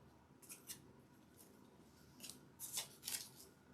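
Scissors snipping leaves off red flowers, a few faint, crisp cuts spaced irregularly, some in quick pairs, in a quiet room.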